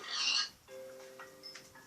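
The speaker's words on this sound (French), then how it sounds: "T'es où le cochon? T'es là le cochon." After a brief burst of noise, a low, drawn-out Minecraft pig grunt sounds, followed by a few soft snorting oinks at close range.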